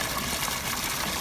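Natural spring water rich in iron and minerals, naturally bubbly and fizzy, flowing out steadily in the Azores, with a continuous broadband gush and no talk over it.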